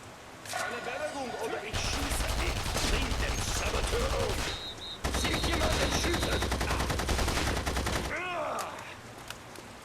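Gunfire in the video game The Saboteur, long bursts of rapid automatic shots that come in two sustained stretches with a brief break between them, loud and close, with a voice shouting now and then.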